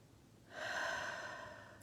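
One slow, deep breath drawn in close to the microphone during a quiet guided meditation, a soft airy rush that swells and then tapers away, heard alone.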